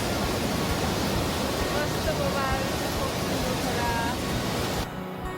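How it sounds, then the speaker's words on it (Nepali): The Phoksundo river rushes strongly as a dense, steady roar of water. It stays loud and close until it drops away abruptly near the end. "फोक्सुन्डो खोलाको बहाव झनै कडा देखिरहेको छ"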